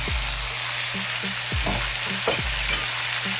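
About five cloves of garlic and a little thyme sizzle in hot oil in a pot for Jamaican oxtail stew, a steady close frying hiss broken by a few soft stirring knocks.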